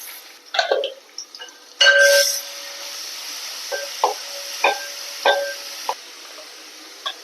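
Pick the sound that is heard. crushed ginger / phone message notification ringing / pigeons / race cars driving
crushed ginger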